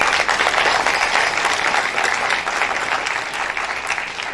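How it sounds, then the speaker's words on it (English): Dense, steady applause from a conference audience at an international academic gathering fills the whole stretch, loud and close, with no break in the clapping. "who requires a big round of applause from all of us"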